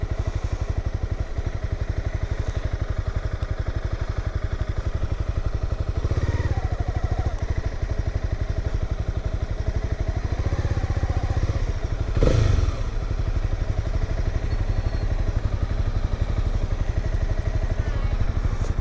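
Motorcycle riding at low speed near a gated community entrance, a steady close engine drone throughout, with a brief thump and clatter partway through.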